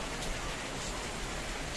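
Steady rain falls in a continuous broadband hiss, even and unbroken, with no voices.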